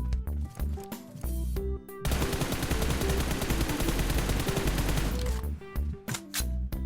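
Rapid automatic gunfire from PUBG Mobile, dense and sustained for a few seconds between shorter bursts, loud and close over steady game ambience.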